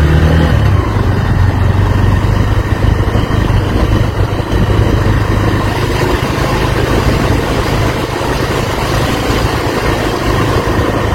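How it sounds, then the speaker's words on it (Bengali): A motorcycle engine climbs a hill road toward Jharkhand's highest peak, a loud steady drone with rushing wind noise heard from on board, continuous and without talk. "বাইকে করে আমি উঠছি আর কি পাহাড়ের ওপরে।"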